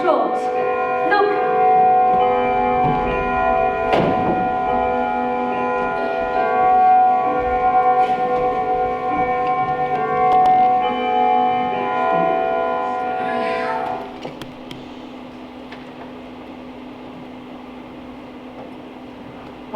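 A clock bell tolls in a staged Christmas Carol musical, ringing with sustained overlapping tones for about fourteen seconds before cutting off, leaving a quieter hum.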